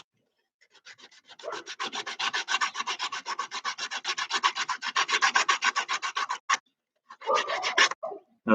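Sandpaper rubs back and forth over a homemade wooden sliding-door handle in quick, even strokes, a close rasping scratch repeated steadily, pausing briefly before a final few strokes.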